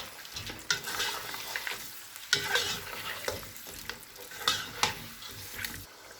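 Mutton yakhni pulao mixture with yogurt and whole green chillies stirred in a pot, repeated scraping strokes at an irregular pace over a low sizzle, close and fairly loud.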